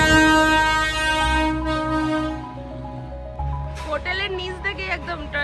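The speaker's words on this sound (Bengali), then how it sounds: "আর এই দেখো টয় ট্রেন যাচ্ছে" A Darjeeling toy train passing close by, a loud rumbling rail sound with a sustained horn-like tone that fades midway, followed by busy street clatter and a voice talking over it.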